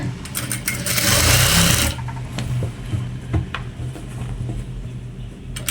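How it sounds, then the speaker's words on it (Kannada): A sewing machine stitches a uniform shirt in a rapid, loud mechanical whirr during the first two seconds. Softer clicks and fabric handling follow as the run stops. "ಈ ರೀತಿ ಇನ್ನೊಂದು 1/4 ಇಂಚು ಈ ರೀತಿ ಸ್ಟಿಚ್ ಮಾಡಬೇಕು"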